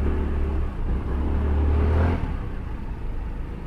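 An Austin ST Max200 scooter rides through city traffic, its small engine droning and swelling briefly as it accelerates, a steady close-up hum mixed with passing road noise.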